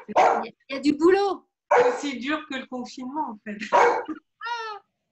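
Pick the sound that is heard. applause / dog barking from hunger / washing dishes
dog barking from hunger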